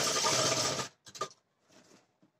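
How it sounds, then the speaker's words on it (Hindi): A sewing machine stitches elastic into the waistband of ladies' pants: a dense, loud run of rapid stitching that stops abruptly, followed by a couple of short, fainter bursts of machine noise and handling. "फिर इसको यहां से सिलाई लगा देनी है।"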